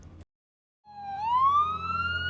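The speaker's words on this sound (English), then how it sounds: "there are a lot of sirens in a city." A siren rises in a long upward wail, fairly close and loud, after a short burst of noise and a silent gap.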